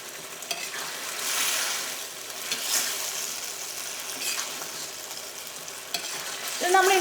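Fried chicken pieces stirred into simmering Manchurian sauce in a pan, giving a steady sizzle with soft scraping and stirring strokes, close and moderately loud, with no talking.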